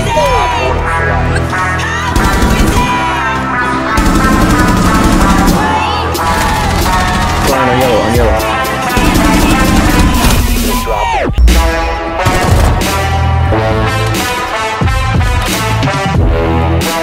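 Gunfire in the video game Rainbow Six Siege, loud and dense bursts layered over a busy, music-like backdrop.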